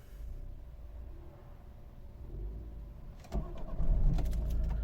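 A 2011 Volvo V50 1.6 D2 diesel engine cranks and catches partway through, after a quiet stretch, then settles into a steady running rumble close by.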